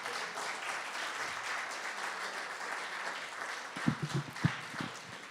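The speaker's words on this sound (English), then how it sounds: "Please give him a round of applause" Audience applause at a policy convention session, a soft, distant wash of clapping throughout with a few sharper nearby claps near the end.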